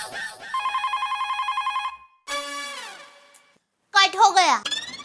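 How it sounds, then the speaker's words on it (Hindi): A telephone rings in a domestic comedy scene, sounding in repeated regular bursts of electronic bell tone. A short pause follows, then voices speak. "उठाना मत, भिड़े का ही फोन होगा, उठाना मत"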